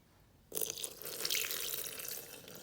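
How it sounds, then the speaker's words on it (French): Water pours into a Thermomix bowl for msemen dough, a steady close splashing that starts abruptly after a short quiet moment and runs on for about two seconds. "Et je vais mettre mon eau, donc 280 g d'eau."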